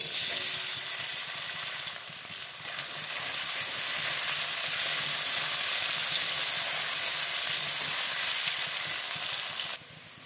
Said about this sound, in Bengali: কড়াটা গরম হয়ে গেছে, দিয়ে দেবো সামান্য হলুদ, দিয়ে দেবো কেটে রাখা আলু